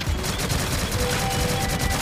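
Rapid, steady automatic fire from a turret in the Shadowgun Legends video game, a continuous rattling stream of shots at moderate loudness.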